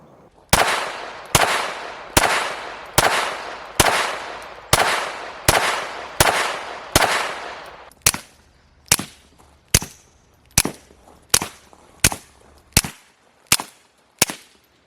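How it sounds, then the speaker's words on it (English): Suppressed Smith & Wesson M&P 22 Compact .22 pistol firing with a Banish 22 suppressor: a steady string of about sixteen sharp, evenly spaced cracks, the first half with a longer ringing tail, then crisper shorter pops, close and loud with no talking. "shooting 22 suppressed is one of my favorite things to shoot, suppressed"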